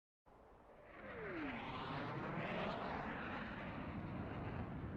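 Fighter jets in Ace Combat 6 roaring as they fly, a steady loud jet rumble that swells in after a brief silence, with a passing whoosh early on.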